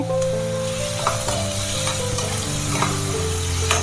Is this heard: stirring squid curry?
yes